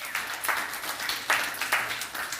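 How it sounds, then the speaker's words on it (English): A small audience at a book talk gives brief applause, a few scattered claps bunched into short bursts, fairly quiet and without speech. "So round of applause to them."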